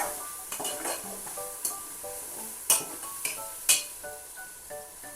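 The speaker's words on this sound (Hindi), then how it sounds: "टमाटर को हमने अच्छी तरह से भून लेना है ताकि वो मसाले के अंदर अच्छी तरह से मैश हो जाएं" Tomatoes sizzle in masala in a frying pan while a spoon stirs and scrapes, with sharp clinks against the metal over a soft crackle, close up and without talk.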